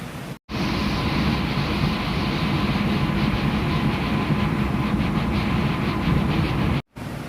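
Continuous rumble and rattle of a moving train, with a steady rhythmic clatter of wheels on track, loud and close throughout.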